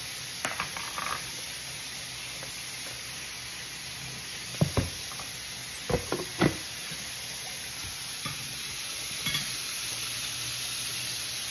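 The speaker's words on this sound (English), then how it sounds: "Let that shit fry for 2 minutes." Pieces of freshly caught bull red drum fish frying in a pan of hot oil, a continuous close sizzle and hiss broken by several sharp knocks and clatters of a utensil against the pan.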